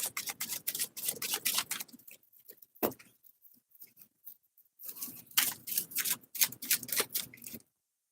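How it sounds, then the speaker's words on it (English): Tarot cards are shuffled close by in quick riffling bursts, with a pause and a single sharp tap in the middle, then another stretch of rapid shuffling. "I will be shuffling the cards while waiting for your questions"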